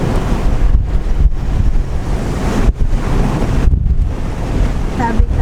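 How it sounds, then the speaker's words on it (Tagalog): Strong wind buffets the microphone in a continuous loud roar, with surf-like rushing and brief gusty dips. "Tapos mahangin pa."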